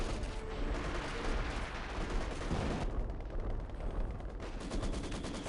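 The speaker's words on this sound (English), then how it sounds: "I heard artillery coming on in." Company of Heroes 2 battle between German and Soviet forces, with artillery fire amid dense, continuous gunfire and rumbling impacts, a steady moderately distant barrage throughout.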